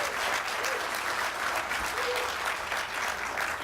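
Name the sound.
audience applause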